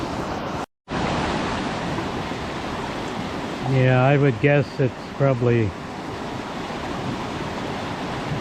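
A flooded creek after heavy rain, rushing water roaring as a steady loud broadband wash, with a person speaking briefly over it partway through.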